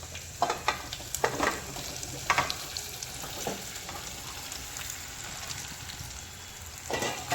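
A tempering of turmeric, sesame seeds and curry leaves sizzles for dhokla, a continuous close frying hiss broken by sharp crackling bursts and stirring scrapes at irregular moments, with no talk.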